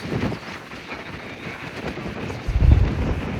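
Gusty wind buffeting the microphone on a ship's front deck in British Columbia, roaring unevenly with a strong low blast near the end.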